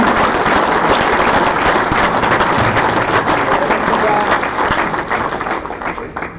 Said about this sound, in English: One more round of applause for Guy.